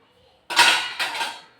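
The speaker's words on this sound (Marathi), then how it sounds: "आज भांडी रचून घेते बरं का, कारण की आताच धुतले होते" Freshly washed steel dishes and utensils being stacked, a clattering clink followed by a second jangling set of metal knocks, close and bright.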